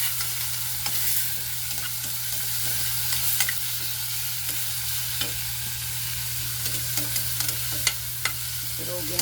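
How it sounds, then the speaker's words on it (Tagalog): Tomatoes being crushed and stirred in a hot pan, a steady sizzling hiss with scattered soft scrapes and taps of the utensil against the pan, close and continuous with no talking. "Durug na yung kamatis natin."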